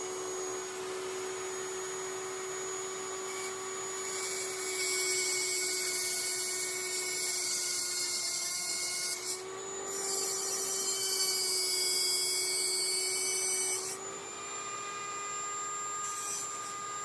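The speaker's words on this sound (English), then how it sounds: "we're going to grind this one down too" Power grinder working down a half-inch metal flex pipe fitting, a steady high whine close by that swells louder in two stretches as the tool bites, with no talk.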